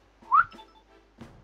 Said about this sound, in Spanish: Uy, he silbado y no debería silbar.